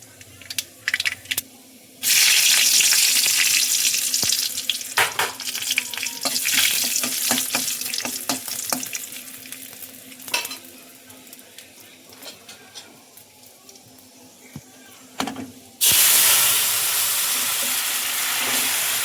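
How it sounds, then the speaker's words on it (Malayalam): Mustard seeds splutter and pop while frying in a hot pan, a close, loud, dense crackling sizzle that breaks off briefly in the middle and then surges back in. "കടുക് പൊട്ടിയോ?"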